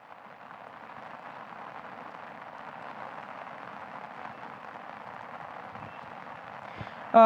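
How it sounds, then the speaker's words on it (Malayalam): Light rain falls steadily in Wayanad, a soft continuous hiss of drops with no talk, ending in a brief louder burst at the very end. "അല്പസമയം മുൻപാണ് മഴ കിട്ടി തുടങ്ങിയത്. പക്ഷേ ശക്തമായ മഴയൊന്നുമല്ല, ചെറിയ തോതിലുള്ള മഴയാണ്."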